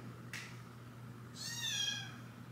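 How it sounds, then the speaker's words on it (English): A pet kitten meows while playing in a room, its short cries fairly faint and in the background, a brief call followed by a longer, rising meow against a steady low hum. "If you can hear my kitty in the background, he is playing."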